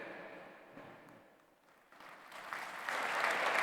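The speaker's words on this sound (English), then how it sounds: "Please put your hands together and give a big round of applause, my friends." Audience applause follows an address at a G20 Interfaith Forum in Pune, starting faint and scattered, dipping briefly, then building into fuller, louder clapping toward the end.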